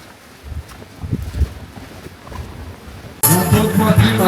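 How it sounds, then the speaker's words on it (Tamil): Gusty mountain wind on the climb to Sri Pada (Adam's Peak), Sri Lanka, buffets and roars across the microphone, first in uneven bursts, then a sudden loud, continuous blast that dominates the last second. "செம்மையாக காற்றடிக்குது."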